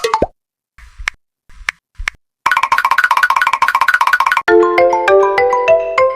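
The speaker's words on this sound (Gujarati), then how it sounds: "ફોન વાગ્યા છે તમારો." A mobile phone rings with a quick, bright melodic tone pattern that repeats and shifts pitch, preceded by a few isolated plopping blips.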